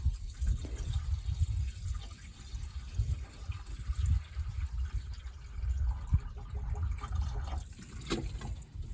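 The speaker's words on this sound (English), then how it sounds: "I'm going to put some coolant in it and see if it holds anything" Coolant poured into the radiator of a 1951 Plymouth that sat for years gives a low, continuous gurgling and trickling fill, faint and steady with no speech.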